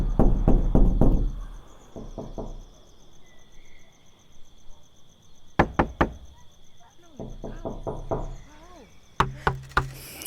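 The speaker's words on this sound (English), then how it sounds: "record yourself knocking on the door" Knocking on a door comes in several bursts of sharp, close raps with pauses between groups, over a faint background hum.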